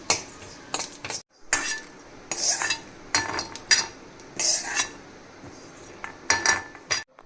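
Spices for rasam powder dry-roast in a pan, with a metal spoon repeatedly scraping and clinking against the pan in irregular bursts, close and fairly loud, with no talking.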